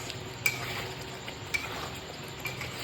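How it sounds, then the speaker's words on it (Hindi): Onion-tomato gravy for Sindhi egg curry is stirred in a pan with a utensil, giving soft scraping and faint sizzling with a few light clinks against the metal, steady and close. "जब तक पूरी तरीके से प्याज टमाटर की ग्रेवी पक नहीं जाती तब तक हम इसको ऐसे ही घुमाते रहेंगे"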